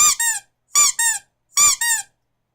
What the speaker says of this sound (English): The second one I have is this pumpkin squeak toy.